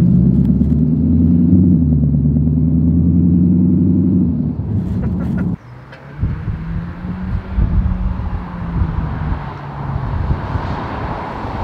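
Cupra Formentor SUV engine heard from inside or beside the car: a steady low drone for several seconds, then a sudden cut and a rougher, rumbling engine note with wind noise as it pulls away.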